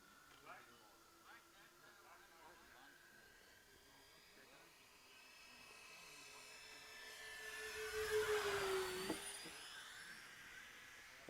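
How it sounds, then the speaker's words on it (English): A Freewing PJ50 RC corporate jet sweeps past on a low pass, its turbine whine swelling to a loud peak with a falling pitch as it goes by, then fading. "I'll come through for a low pass, Mikkel."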